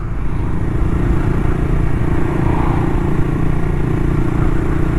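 A Honda Monkey motorcycle fitted with an aftermarket exhaust and intake pulls hard in third gear from about 35, its engine a loud, close, continuous drone that holds steady throughout with no talking.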